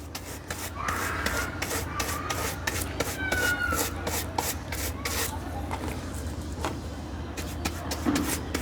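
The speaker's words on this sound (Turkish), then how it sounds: "Şöyle bolca güzelce ben şimdi onun verniğini de bir süreyim" Brush strokes spreading varnish over a flowerpot made from a plastic yogurt bucket, a close, repeated rubbing scrape with soft strokes in a steady rhythm, heard alone.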